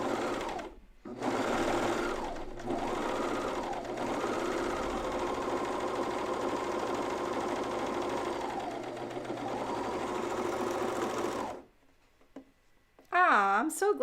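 A coverstitch machine runs in long steady bursts while stitching pajama tops, its motor whirring with brief pauses and pitch shifts, then stops before a short spoken moment near the end.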